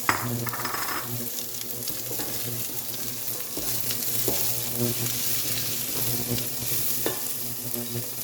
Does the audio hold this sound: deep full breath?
no